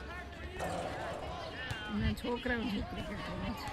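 A cricket ball bouncing with a few dull thuds as children play cricket, amid lively chatter and children's voices nearby, the talk staying louder than the bounces.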